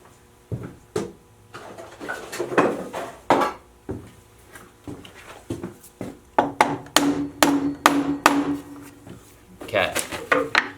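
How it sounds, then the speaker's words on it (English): A hammer drives a nail into a wooden pallet with a series of sharp, irregular knocks, some in quick bursts, close by with a person talking at times. "we'll just have to hammer that one in"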